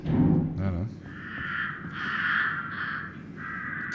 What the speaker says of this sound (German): Krähen.